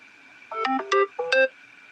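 A dying phone sounds its low-battery alert: three short, bright electronic chime bursts in quick succession, clear and close, with nothing else around them.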